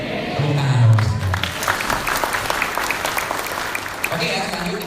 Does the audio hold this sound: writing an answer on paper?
no